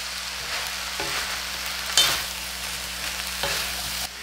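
Vegetables for lumpia filling sizzle in a hot pan, with soft stirring scrapes and a couple of sharper clatters from the spatula, steady and close with no voices.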